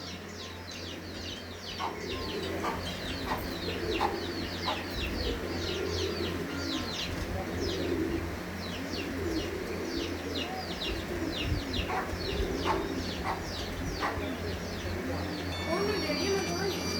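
Faisalabad Jonsre pigeons, kept as breeding birds in a loft, coo repeatedly nearby while other birds chirp around them and someone talks over the sound.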